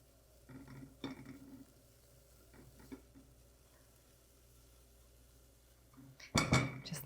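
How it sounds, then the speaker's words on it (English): Grated zucchini cooks in a pan with a soft, quiet sizzle, a few utensil clinks and scrapes, and a louder clatter near the end. "we're going to add our grated zucchini. We're gonna cook that just long enough to get a tiny bit more moisture out of it."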